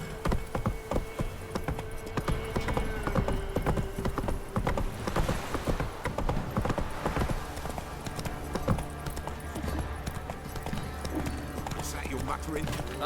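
Horse hooves gallop in The Witcher 3 as a steady, busy clip-clop runs the whole time, with occasional neighs, game noise and people talking over it.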